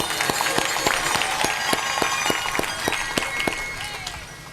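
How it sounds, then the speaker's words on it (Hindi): Audience at a Bhagavat satsang gathering in Badnapur, Maharashtra, claps in welcome: steady rhythmic handclapping from a crowd, close and loud, with regular beats running through most of the stretch before tapering near the end. "तो मोठ्याने ताली वाजवा"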